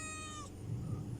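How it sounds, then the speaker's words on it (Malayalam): A domestic cat gives one short, high meow, close and clear, followed by faint low rustling. "പൂച്ച കരയുന്നുണ്ട്."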